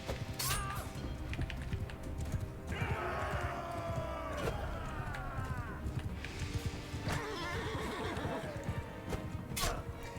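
Horses neigh and whinny repeatedly over galloping hooves and clashing battle noise in the Mount & Blade medieval combat video game, loud and busy throughout with no talk.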